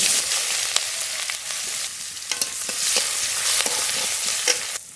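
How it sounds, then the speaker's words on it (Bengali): Chopped onion sizzling in hot oil in a wok, a dense steady frying hiss with sharp spatters and stirring scrapes, close and loud with no talking. "পেঁয়াজ আর টমেটো একটু ভেজে নেব"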